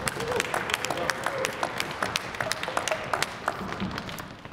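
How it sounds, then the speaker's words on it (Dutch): Concert-hall audience at a classical music award applauding a jury member, steady even clapping with a few sharp individual claps standing out, moderately distant, with a faint voice underneath. "Uw applaus voor Etienne Siebens."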